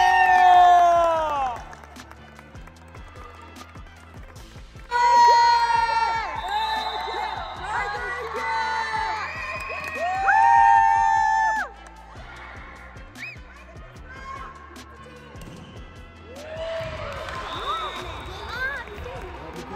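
Crowd at a volleyball match cheering and shouting, loud bursts of excited voices and whoops that rise and fall in waves, mixed with close shouting from people nearby.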